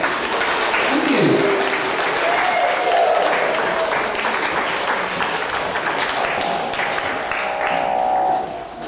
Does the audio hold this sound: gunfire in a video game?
no